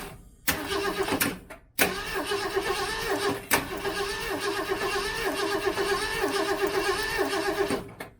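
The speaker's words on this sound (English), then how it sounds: "let's crank it and see what happens" 1967 Mustang with a 390 V8 that has a lifter tick, cranking with a few sharp starter bursts before catching and settling into a steady, close, rhythmic idle with fine ticking.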